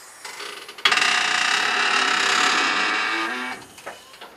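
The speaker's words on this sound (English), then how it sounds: "Jacking it up. Strut comes up. And then you lower it down." A portable car lift raises a car with a steady mechanical whirring hum of about three seconds, starting abruptly and cutting off, followed by a few light clicks.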